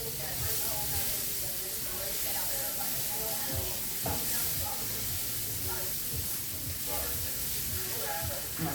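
Onions sauté in a pan with a steady hiss and sizzle that never lets up, close and continuous under a background of music.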